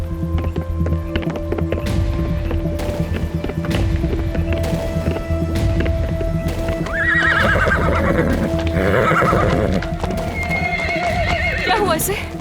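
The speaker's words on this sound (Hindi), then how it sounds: "अरीस मेरा घोड़ा?" A horse in poor health neighs loudly over clip-clopping hooves, a long whinny ringing out near the end, with dramatic music and background sounds underneath throughout.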